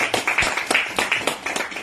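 A church congregation applauds, a brisk, fairly loud clapping with sharp irregular claps from many hands close together, with no voices over it.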